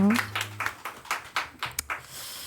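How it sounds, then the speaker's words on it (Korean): A handful of sharp, separate claps ring out in an uneven rhythm at a youth Sunday church service, with a voice heard briefly at the start. "우리 하나님께 영광의 박수 올려드립니다."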